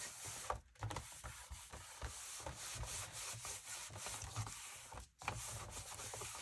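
A hand presses and smooths paper flat on a planner page, producing soft, continuous close-up rubbing and brushing with a couple of brief pauses, and no voices.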